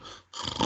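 A human voice imitates a prolonged snore: a short breathless silence, then a rough, raspy snore rising loud and close.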